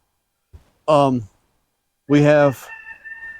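A rooster on a homestead gives two loud, close, harmonic calls about a second apart, with a brief human voice nearby.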